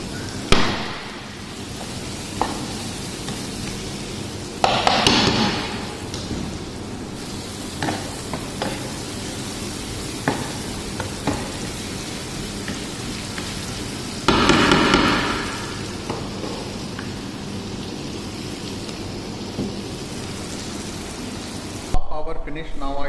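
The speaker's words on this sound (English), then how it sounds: "So now I add this tomato, and little this our spices, and now we have to cook again here." Tomato and spices cooking in a pan for daal, a steady soft sizzle running throughout with a few louder bursts of stirring and scraping, faint and close, without talk over it.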